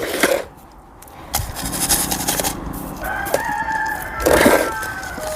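Several roosters crow near and far in a rural yard, long rising calls overlapping with clucking, under a faint mechanical background hum and no talking.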